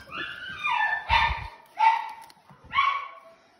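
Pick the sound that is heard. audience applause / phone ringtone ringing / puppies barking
puppies barking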